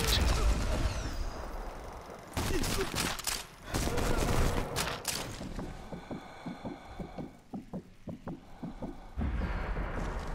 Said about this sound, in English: Jedi, I found a shooting range. It's got every gun ever.